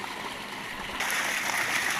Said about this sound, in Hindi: साडी मोटर है चली हुई है, हुण चलाईए पानी लाऊंगा कणक नूं